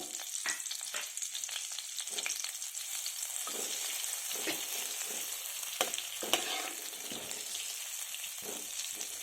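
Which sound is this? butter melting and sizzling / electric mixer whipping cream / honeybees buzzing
butter melting and sizzling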